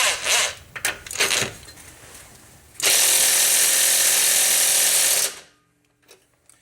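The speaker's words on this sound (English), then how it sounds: "you'll need to hold the bolt on one side and undo the nut on this side" An 18 mm nut being undone on the lower rear shock absorber bolt of a 2005 Chrysler Town & Country, with scattered clicks and clanks, then a loud sustained ratcheting whirr for a couple of seconds that stops abruptly.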